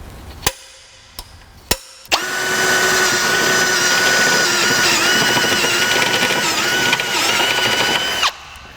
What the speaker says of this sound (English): I'm going to start with a pilot hole right about here.